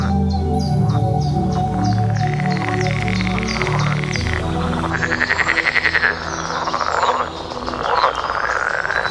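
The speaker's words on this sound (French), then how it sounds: "Les mâles font entendre leur coassement sonore pour signaler leur présence aux femelles" Male green frogs call from a pond in breeding season, a dense, loud chorus of repeated rhythmic croaks and overlapping chuckling calls that runs continuously.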